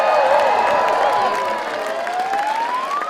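A crowd at a Dunedin street protest over hospital cuts cheers and applauds loudly, a continuous roar of voices and clapping with a siren-like tone rising underneath.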